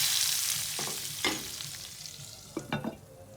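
A hot tempering of garlic, ginger and cumin is poured onto masoor lentil dal, giving a soft steady sizzle with a few sharper crackling bursts and spoon stirs, close and fairly quiet.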